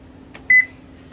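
A single short electronic beep sounds from a kitchen timer, clear and fairly close, over a quiet steady hum.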